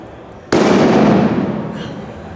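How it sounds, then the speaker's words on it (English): A Le Maitre theatrical flash extra loud report effect goes off: after a moment of quiet background, a single sudden, very loud bang followed by a long roaring, hissing decay. "So this one's called a theatrical flash extra loud report."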